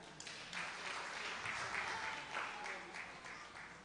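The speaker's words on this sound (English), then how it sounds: "Give them a big clap." A Baptist church congregation claps during a service, a distant, fairly soft wash of applause that swells and persists across the moment without speech over it.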